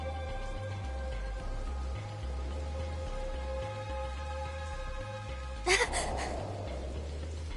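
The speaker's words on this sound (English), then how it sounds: "Just started raining over here." Rain falls in the video game Soul Hackers 2, a soft, steady hiss of drops beneath sustained musical tones, with a short brighter burst partway through.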